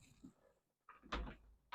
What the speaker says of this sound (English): that's why the door opened behind me.